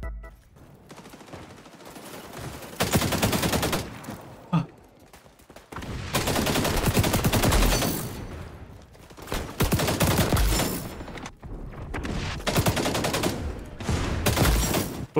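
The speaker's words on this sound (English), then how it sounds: "Look how fast this gun shoots." Rapid gunfire from a fast-firing gun in the video game XDefiant: long sustained bursts of automatic shots, loud and close, broken by short pauses and a few single cracks between the strings.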